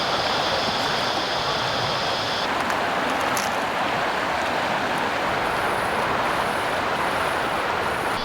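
A river rushes through a big gorge on a flooded bridle track in Australia, a loud steady roar of water filling the whole stretch without pause.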